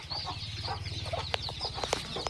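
Caged chicken chicks peep and cheep close by in sharp, rapid high calls, with fowl clucking and low rhythmic chatter underneath, a busy continuous flock sound.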